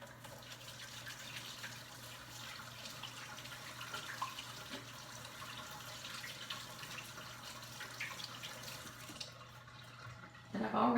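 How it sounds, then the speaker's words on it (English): Hands being washed under a running kitchen tap, a steady close splashing hiss of water that continues for several seconds and then cuts off near the end. "let me wash my hands real quick"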